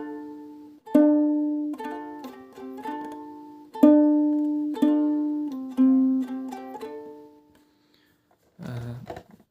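Ukulele chords strummed and plucked in a simple, medieval-style rhythmic pattern, ringing notes repeating over several seconds before a short rustle at the end.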